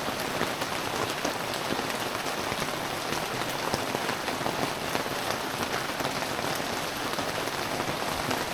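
Rain pours steadily during a mountain hike near Bandung, a dense even patter on surfaces that stays loud and unbroken throughout.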